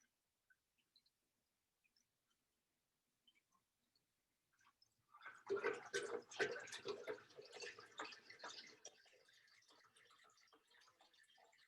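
After a few quiet ticks, water pours and splashes into a container for several seconds, then settles to a softer trickle.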